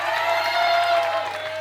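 An audience at a French slam poetry show applauds and cheers, a sustained wash of clapping and crowd noise with a steady tone running beneath it.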